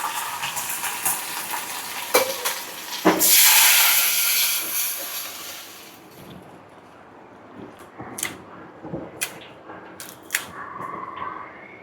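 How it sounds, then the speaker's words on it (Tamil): Mustard seeds and urad dal sizzle in hot oil for a tempering with asafoetida, a loud hissing burst that fades after a few seconds into scattered pops and clinks. "இதில் எண்ணெய் ஊற்றி கடுகு உளுந்து பெருங்காயத்தூள்லாம் போட்டு தாளிப்பு போகிறோம்"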